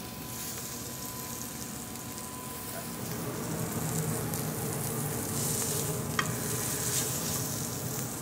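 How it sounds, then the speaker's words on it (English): Steak sears in a hot pan with a continuous, even sizzle that holds steady throughout, close and moderately loud, with no voices. "So we're looking for a good sear on here."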